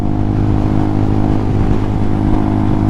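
A Hawk 250 motorcycle engine runs steadily while riding, a loud, continuous mid-pitched drone with strong harmonic hum and little variation in revs, heard alone without any voices.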